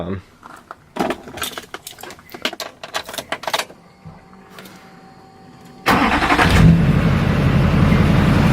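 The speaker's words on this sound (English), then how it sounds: "We'll fire up the truck real quick so you guys can see." Clicks and handling noises, then a classic-body GM truck engine cranks and fires up abruptly, settling into a loud running rumble.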